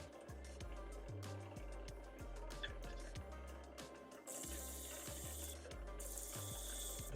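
Wooden ball spinning on a wood lathe while being hand sanded, a steady low motor hum with rhythmic rubbing and scratching strokes, quiet and close, with a brief brighter hiss of sandpaper toward the end.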